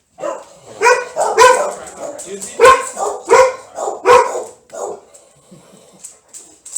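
A dog barks repeatedly nearby in short, uneven bursts, tapering into softer yips and whines.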